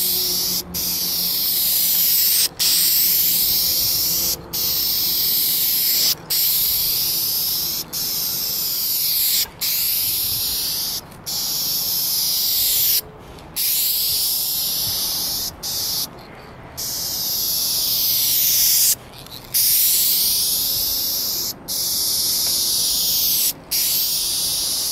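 Aerosol spray paint can laying a first coat on a car, a loud continuous hiss in long bursts broken by brief pauses, close up with no talking.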